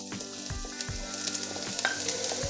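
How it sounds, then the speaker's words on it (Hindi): One tablespoon of chopped garlic frying in two tablespoons of hot oil, a steady close sizzle with crackling pops and occasional stirring scrapes. "अब हम इसमें 1 टेबलस्पून चॉप किया हुआ लहसुन डालेंगे।"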